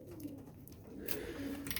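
White doves coo softly in a backyard loft, a low, steady murmur with several overlapping birds, faint and close over a quiet background.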